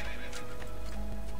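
A horse in the video game Assassin's Creed 2 gives a loud, close neigh over the clatter of hooves against a busy game soundscape.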